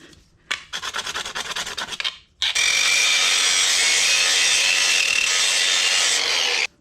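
A hand tool trims the edge of a DIY snorkel part being prepared for an Adventra, first in quick rhythmic rasping strokes, then after a short pause a long continuous loud grinding, close to the microphone with no talk.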